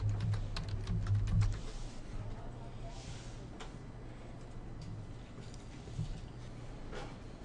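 Soft, rapid keyboard typing on a computer while signing in to a Windows Server 2012 machine, quiet clicks running steadily over a low electrical hum.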